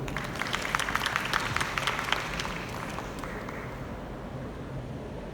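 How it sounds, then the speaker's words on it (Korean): Audience applause at a Korean carbon-neutrality forum welcomes a speaker to the stage, a dense patter of clapping through the first half that fades into softer room noise. "큰 박수로 모시겠습니다"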